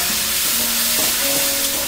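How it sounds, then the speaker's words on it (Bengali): Spices sizzle and fry in a pan with a splash of water for a Bengali rui fish curry, a loud continuous close hiss with a faint steady tonal hum underneath. "খুব ভালোভাবে মশলাগুলোকে এবার কষিয়ে নিতে হবে যতক্ষণ পর্যন্ত মশলা থেকে তেলটা ছেড়ে আসে।"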